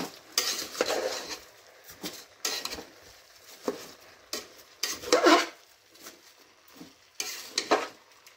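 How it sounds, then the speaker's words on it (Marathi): Rice being sautéed in a pan for drumstick pulao, with repeated scraping and stirring strokes against the metal and light clinks of a spoon, moderately close and with no voices. "आता ह्याच्यामध्ये घालते तांदूळ, तांदूळ घालून जरा परतून घ्यायचं।"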